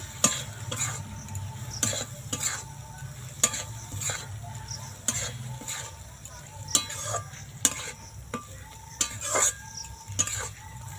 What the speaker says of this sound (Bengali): আগে থেকে যে পটলগুলো নেড়ে রেখেছিলাম মশলার মধ্যে দিয়ে দেবো দিয়ে একটু নাড়াচাড়া করে নেব